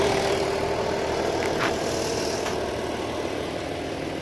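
A Skoda Superb mk1 with broken wires to the manifold flap idles while warming up, a steady, even engine hum close by with a couple of faint clicks and no talking.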